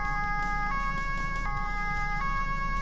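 A wailing emergency siren in a police simulator game, set on the Autobahn, sounds steadily and loudly with a repeating cyclic pitch pattern over a low engine rumble, with no talking.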